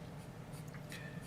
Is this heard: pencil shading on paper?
yes